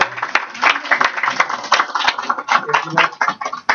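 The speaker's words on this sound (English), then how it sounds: "let's give Ricardo a round of applause" An audience at a Mexican Fiesta event applauds Ricardo, a few minutes of dense, irregular clapping from a modest crowd, close and fairly loud, with a voice briefly heard over it.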